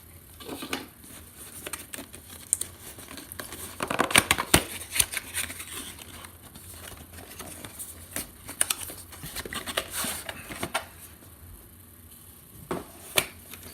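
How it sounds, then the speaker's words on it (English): Quiet tearing, crinkling and snipping as a tiny iRig Mic Lav box is ripped and cut open, with scattered sharp crackles and scrapes coming in short bursts close by. "I'm just gonna rip it. I'm gonna rip it, and I'm gonna cut it."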